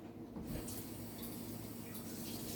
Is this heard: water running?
yes